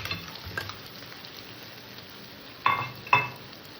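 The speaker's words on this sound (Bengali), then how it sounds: "একটু নাড়াচাড়া দিয়ে আমি মাছ কোটাও দিয়ে দিলাম" Fish pieces frying and being turned in a pan with fried potatoes for a crab curry, a low continuous sizzle broken by two sharp metallic scrapes and clinks of the spatula late on, no talking.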